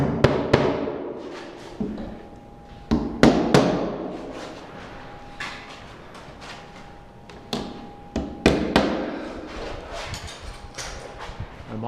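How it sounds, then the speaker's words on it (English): Nails are tacked into the top of a wooden stair riser, giving scattered sharp hammer knocks in short clusters against a quiet indoor background. "Tack a few nails at the very top of this riser."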